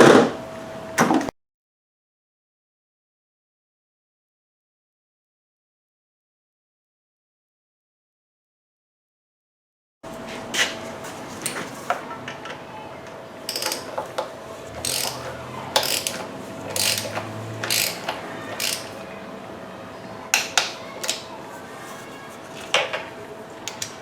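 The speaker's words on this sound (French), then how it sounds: "je suis en train de serrer les ancrages pour la tubule d'admission" Metal bolts being tightened on the intake manifold anchors of a 2012 Nissan Sentra, heard as sharp ratcheting clicks and clinks at close range after a long silent gap, with a steady faint hum beneath.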